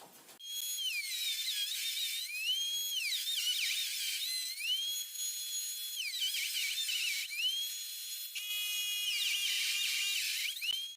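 A power saw cuts the sides of wooden boards to 28 cm for a mini-plus beehive nucleus box, giving a steady high-pitched whine that dips in pitch as each cut bites, with a brief pause near the end.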